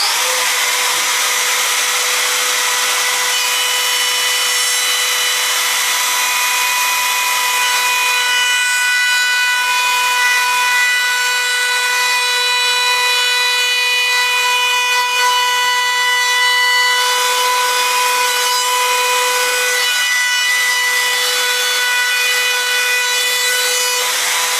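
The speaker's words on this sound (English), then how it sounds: "You've got to see what happens when you router perspex." A router trims and bevels the edge of perspex on a subwoofer box port, letting out a loud, steady, piercing whine that holds for a long stretch, close up and alone.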